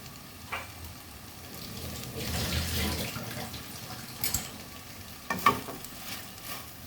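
Onions sizzling as they fry in a pan of spiced pointed gourd and shrimp curry, a steady low hiss with a few scraping stirs and small clinks over it, close and moderately loud, without speech.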